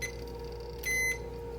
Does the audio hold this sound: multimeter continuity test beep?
yes